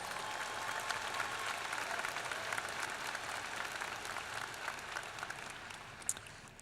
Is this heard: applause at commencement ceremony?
yes